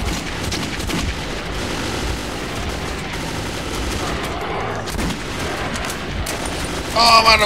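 Pistol fire in the shooter game Metro 2033 sounds like dense, chaotic shooting and bangs. The noise runs continuously with a louder burst of clatter near the end.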